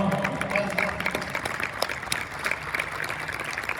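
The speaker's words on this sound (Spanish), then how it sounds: "Otro aplauso, por favor." Scattered clapping from a small group at the opening of a fan convention in Oviedo, with people talking over it.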